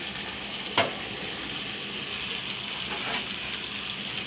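Tilapia fish and okra with tomato frying in a pan, a steady close sizzle throughout with a brief clink of a utensil stirring near the start.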